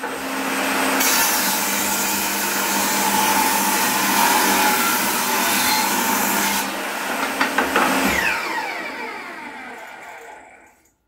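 A power tool routes rounded edges on old wooden lining boards, giving a loud continuous high whir with cutting noise for several seconds, then a few knocks as it spins down, close up.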